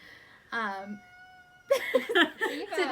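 Indoor house cat meowing once clearly and nearby, a drawn-out wavering cry, followed a moment later by a person speaking.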